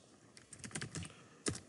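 Someone types code on a computer keyboard, a quick irregular run of soft clicking keystrokes close to the mic, ending with one sharper keypress, and nobody talks.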